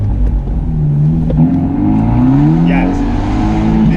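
A Fiat Abarth 124 Spider accelerating hard, its engine note climbing through rising revs and a gear change, loud and close, with voices talking over the engine.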